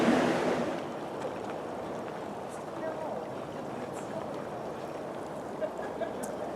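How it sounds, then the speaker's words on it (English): A river near Mt Shasta, California, flows as a steady broadband rush of water that continues throughout, louder at first and then settling into a constant background wash. "You can hear the river in the background."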